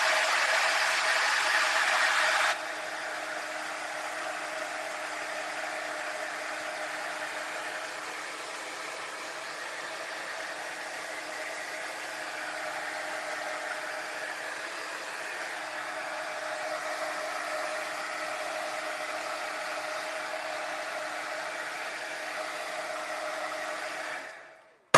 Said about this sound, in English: I'm going to heat set this just a little bit.